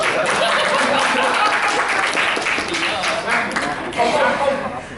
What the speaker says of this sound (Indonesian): Karena teman-teman tepuk tangan loh